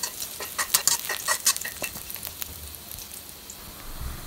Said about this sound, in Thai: ใส่กระเทียมสับลงไปขั้นตอนตรงนี้เราจะผัดให้กระเทียมหอมก่อนค่ะ